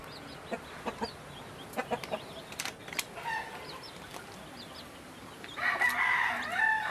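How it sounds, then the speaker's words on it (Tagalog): Close, soft clucks of a hen and short chirps of her chicks come in scattered bursts, growing into a busier cluster of calls near the end. "dito po naman sa kabila ay ah, yung isang inahin nila"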